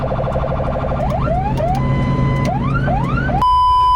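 A loud electronic ambulance siren cycling through rising wails and yelps, switching patterns partway, ending in a steady high tone close by.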